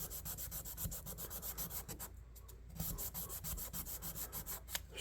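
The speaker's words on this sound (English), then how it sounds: "this is about 2000 grit sandpaper" A tiny Bowie knife blade is sanded with 2000 grit sandpaper to take off rust, giving continuous close rhythmic rubbing and scraping strokes with a brief pause partway through.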